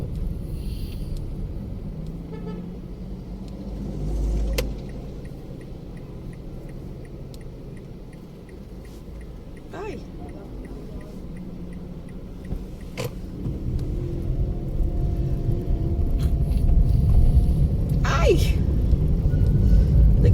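Low rumbling road traffic of large trucks and heavy vehicles passing close to a stopped car, the drone swelling louder toward the end, with a few sharp knocks and faint talk inside the car.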